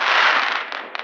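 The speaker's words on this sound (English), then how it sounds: "Fire works." Fireworks on the Fourth of July, one loud close burst of crackling hiss that fades with a few small pops at the end.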